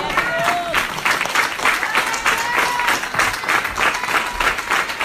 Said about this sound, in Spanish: Ahora recibe de tus hermosos hijos e hijas un fuerte aplauso